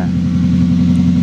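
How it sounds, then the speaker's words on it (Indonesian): Loud car exhaust with an electronically controlled valve set to racing mode, the engine holding a steady, rumbling drone close by, with no voices. "ini berisik berarti dia di mode racing"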